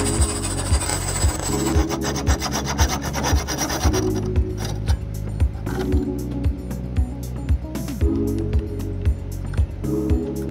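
Rhythmic rasping strokes of a hand file smoothing the rough cut edge of an aluminum extrusion, steady back-and-forth scraping repeated evenly throughout, close and loud with no talking.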